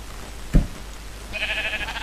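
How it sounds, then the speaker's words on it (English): A Minecraft sheep gives a short, thin bleat near the end, preceded by a single dull thump, with quiet game ambience throughout. "sheep on fire, walking down the road. Get away from me, sheep."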